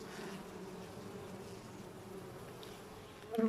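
Constant low buzzing of many honey bees from an open hive during a hive inspection, close and steady, with a brief louder bump at the very end.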